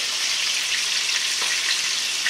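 A sirloin steak fries untouched in a pan, giving a loud, dense, even sizzle that holds steadily throughout without pauses or talk.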